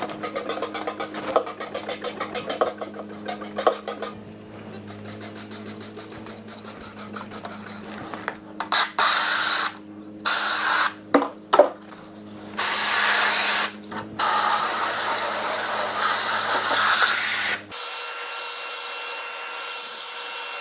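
Super Clean cleaner sprayed down inside a dehumidifier, several short hissing bursts of spray in close succession after a stretch of quieter scraping and handling, close and fairly loud.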